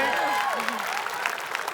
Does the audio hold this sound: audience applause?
yes